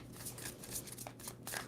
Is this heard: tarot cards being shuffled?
yes